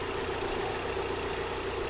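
A Volkswagen engine fitted with a Digifast chip idles with a steady, low hum, continuous, even and unbroken, with no voices.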